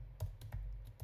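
A few scattered clicks of computer keyboard keys being typed, close and quiet against a low steady hum.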